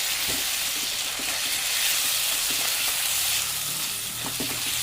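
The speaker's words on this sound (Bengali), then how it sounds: "দু চামচ হলুদ গুঁড়ো দেড় চামচ দিয়ে এটা ভালো করে নেড়ে চেড়ে কষিয়ে নেব" Spices with chilli powder and turmeric are stir-fried in a pan for an egg curry, giving a constant loud sizzle with intermittent scraping knocks of a spoon stirring the paste.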